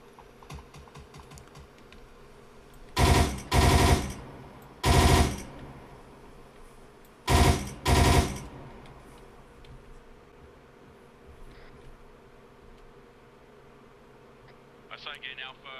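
Bursts of machine gun fire during a military operation, with two or three short clusters of rapid shots, then a long pause and another pair of bursts, loud over a low rumbling background.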